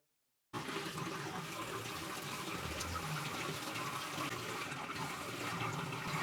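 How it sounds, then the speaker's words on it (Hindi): Water gushes steadily from the tap of an instant gas geyser, heard as a sudden start after a moment of silence and then a constant, even rush with no speech. "तो अभी जो है पानी गर्म आना शुरू हो चुका है"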